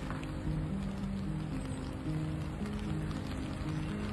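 Rain falls steadily in the courtyard of the Apostolic Palace, a soft, continuous patter on hard surfaces, fairly faint, with faint tonal hums in the background and no speech.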